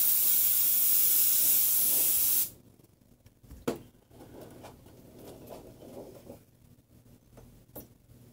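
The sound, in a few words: spraying insect spray around window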